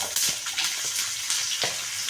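Chopped onion frying in hot oil in a pan, with cumin and mustard seeds, for a spicy village-style ridge gourd thecha; a steady close sizzle and crackle with occasional stirring scrapes.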